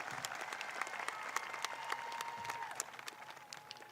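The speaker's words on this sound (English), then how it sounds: "Let's give a big round of applause for the class of 2022 Honorable Mention Medalist Awards" A crowd at a high school graduation ceremony applauds the class of 2022 honorable mention medalists, a steady, moderate wash of many hands heard from a distance. A faint tone and scattered sharper claps run through it.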